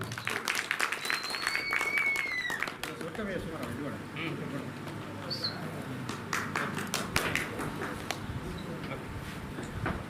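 Steady, dense clapping from a crowd at a stage event fills the whole stretch, with scattered voices and chatter mixed in underneath.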